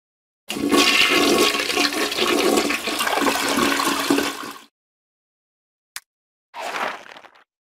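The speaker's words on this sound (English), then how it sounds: "After Elmo uses the potty, he always flushes." A toilet flushes with a loud rushing whoosh of water for about four seconds, followed by a brief click and a short trickle of refilling water.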